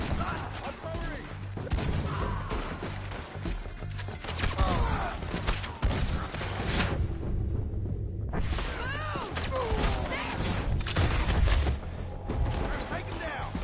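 Gunfire in the Red Dead Redemption 2 epilogue, rapid bursts of shots and booms in a chaotic firefight, with voices shouting over the shooting throughout.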